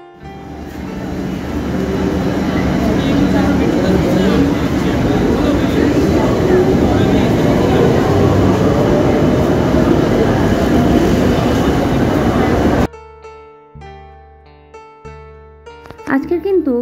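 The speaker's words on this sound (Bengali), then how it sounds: "Shobhabazar Sutanuti metro station." A Kolkata metro train at Sovabazar Sutanuti station rumbles loudly and continuously for about thirteen seconds with a rising roar, then cuts abruptly to music.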